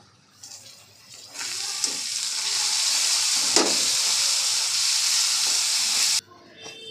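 Chopped capsicum dropped into light-brown onions frying in hot oil in a pan for pav bhaji, a loud sizzle bursting up and hissing steadily for several seconds before cutting off abruptly.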